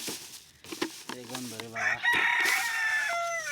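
Chickens cluck and a rooster crows loudly nearby, with harmonic calls overlapping; a voice speaks briefly in the middle.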